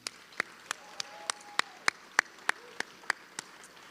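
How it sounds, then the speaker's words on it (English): Sparse, isolated claps ring out at a roughly even pace at a school district awards ceremony, honoring cheerleaders; the clapping is thin and scattered rather than a full crowd. "Will you guys join me in another round of applause for the Corner Canyon cheerleaders?"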